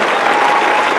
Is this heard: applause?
yes